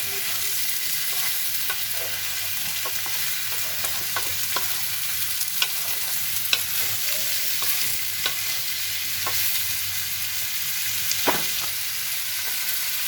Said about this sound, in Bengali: সুন্দর করে এটা এখন আমি নেড়ে ছেড়ে দিব।